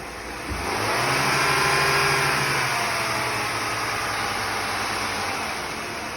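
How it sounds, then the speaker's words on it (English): Engine revving during a crankshaft sensor test: the note climbs sharply from idle, holds a steady raised drone for a few seconds, then eases back down under a constant broadband hiss. "Colin, you go ahead and rev it."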